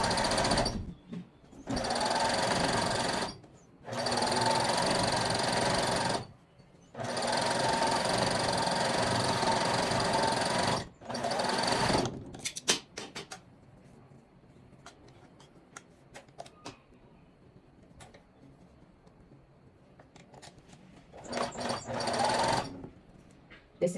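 Sewing machine stitching elastic onto stretched fabric runs in several loud, steady bursts of whirring stitches separated by short pauses, then goes quiet apart from faint handling clicks and one last short run.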